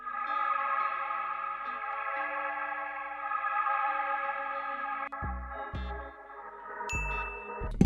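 An organ chord sample from the Costhouse organ in Analog Lab 5 sustains as a rich, steady chord for about five seconds, then breaks into short gated stabs with a bright high tone near the end.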